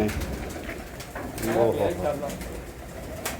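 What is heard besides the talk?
pigeons cooing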